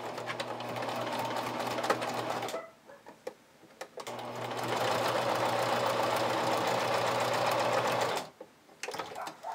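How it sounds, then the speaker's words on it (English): A sewing machine runs a straight-stitch seam on a vintage-style bra, whirring steadily in two sustained bursts with a brief pause between them and a short stop near the end. "So I'm just going to stitch these together using a half an inch seam allowance and"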